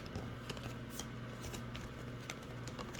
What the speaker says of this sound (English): let's do a little more shuffling and see what we get